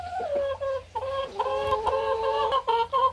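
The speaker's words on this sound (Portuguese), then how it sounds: "ali tá ali a galinha, a galinha Brahma Light, ela já está lá no ninho que a gente fez aqui" A pair of Brahma Light chickens, hen and rooster, clucking by a nest: repeated near, fairly loud clucks and short calls in an uneven run, with brief pauses between bursts.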